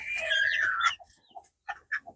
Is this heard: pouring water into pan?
no